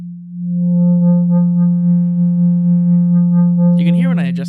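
A modular synthesizer in VCV Rack holds a steady, buzzy low tone with a slowly wobbling brightness as its filter cutoff shifts, ending in a brief sweeping, warbling flourish, with no voices.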